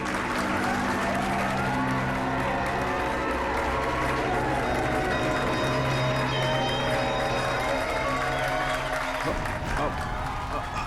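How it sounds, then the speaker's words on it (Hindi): Audience applauding during a stage magic show, a loud sustained wash of clapping and crowd noise over music that continues for about nine seconds before cutting off abruptly near the end. "तालियां!"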